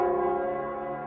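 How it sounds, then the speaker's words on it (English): The Nell Squares bell rings in the video game Wuthering Waves, a single deep, resonant toll with rich sustained overtones that slowly fade, heard alone. "It's the Nell Squares bell."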